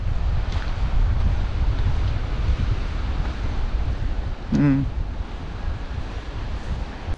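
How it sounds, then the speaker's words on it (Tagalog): Steady wind buffets the microphone over a low, continuous wash of surf; a brief voice cuts in midway. "Ito po ang dagat namin ngayon o."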